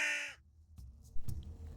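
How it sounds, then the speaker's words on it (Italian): Hooded and carrion crows living together in a large flock give a single loud, close caw, followed by quieter rustling and a few fainter calls. "Spesso cornacchie grigie e cornacchie nere vivono insieme all'interno di grandi stormi e, come gli altri corvidi, sanno essere molto chiassose."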